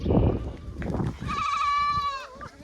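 A person talks briefly, then a goat lets out a loud, drawn-out bleat close by.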